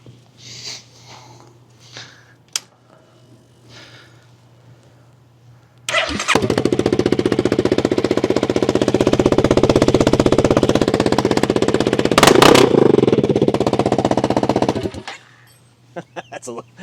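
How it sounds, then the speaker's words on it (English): A Honda CRF300L motorcycle engine with no muffler starts after some quiet talk and runs loud and raw for about nine seconds with sharp rapid popping, then cuts off abruptly. "Now, if you're ever wondering, Alan, what does a Honda CRF300L sound like without a muffler?"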